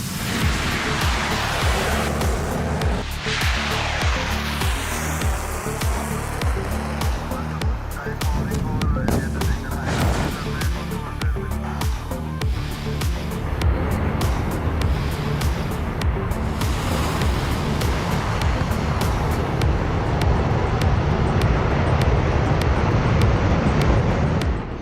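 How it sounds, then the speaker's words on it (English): Sukhoi fighter jets take off at the Indian Air Force base in Tezpur, a loud, sustained engine roar that fills the whole stretch without letting up. "And even closer as the Sukhois return after their mission."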